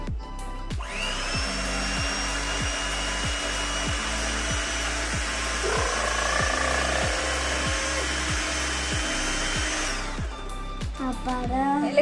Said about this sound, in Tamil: எலக்ட்ரிக் பீட்டரால் நீங்கள் ஒரு 10 மினிட்ஸ் நல்லா பீட் பண்ணிக்கோங்க.